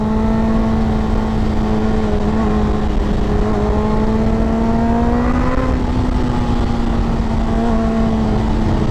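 A Suzuki GSX-R 600 motorcycle engine holds a loud, steady drone close by, its pitch rising slightly and then settling for several seconds.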